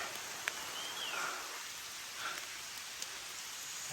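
Steady rain falls in an outdoor setting, a soft continuous hiss with a few faint drips and a brief chirp, quiet and with no one talking.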